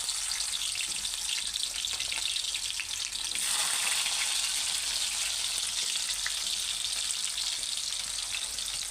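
Onions frying in hot oil for an egg potato rice dish, a steady, close sizzle with bright crackle that runs unbroken throughout, louder for a stretch in the middle, with no talking.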